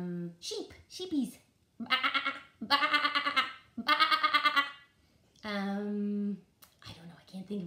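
A voice imitates a sheep with several drawn-out, wavering bleats, rising and falling in pitch, with short pauses between.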